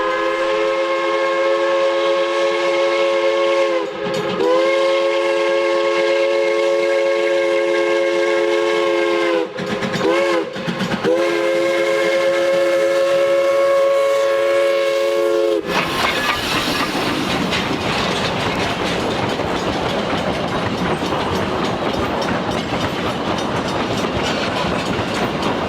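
A Silverton steam train rolls past on the railroad along the Animas at a 32nd Street road crossing, its multi-tone whistle sounding in long loud blasts with brief breaks, then giving way to heavy rumbling and clattering of the passing cars.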